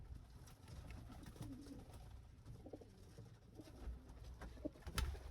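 Pigeons coo steadily in an enclosed pigeon room, low murmuring calls overlapping continuously with a few louder coos near the end and no talking.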